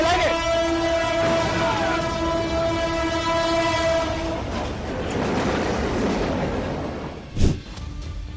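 A train horn blares in a long sustained chord, then cuts off as rumbling wheels roll on; a sharp bang sounds near the end.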